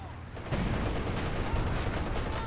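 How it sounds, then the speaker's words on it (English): Artillery and gunfire traded in a Company of Heroes 2 World War II multiplayer battle, a dense, continuous roar of shots and blasts starting abruptly and holding loud throughout. "A lot of artillery being traded here."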